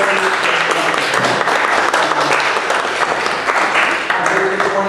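Sustained audience applause from a crowd at a town council meeting in Weehawken, dense steady clapping filling the whole stretch, loud and close.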